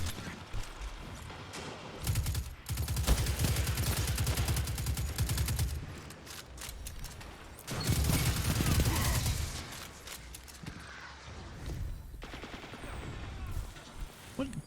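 Gunfire in the video game Duty Bound: two long, dense bursts of rapid automatic fire, loud and continuous, separated by a quieter stretch of scattered shots, with game voices in the mix.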